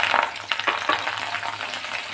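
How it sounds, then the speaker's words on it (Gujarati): Fresh mint leaves fry in hot oil inside a sieve, giving a busy, crackling sizzle with scattered pops and spits, close and continuous throughout. "આ રીતે ફોદીનાને આપણે સરસ એવા તળી લેવાના છે"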